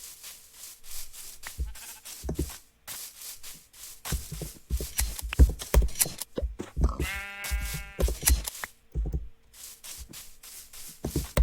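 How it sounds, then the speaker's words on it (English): Sheep bleat repeatedly in the video game Minecraft, several short nasal calls mid-clip amid rhythmic blocky footstep and rubbing sounds, fairly close and moderately loud with no talking. "There's a bunch of sheep running around."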